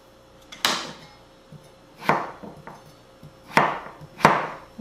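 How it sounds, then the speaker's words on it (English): A sharp knife chops down through a butternut squash in four or five distinct thuds against the board, spaced about a second apart, close and crisp with quiet gaps between. "I'm going to take the sharp knife, cut that bottom end out, makes it a lot easier"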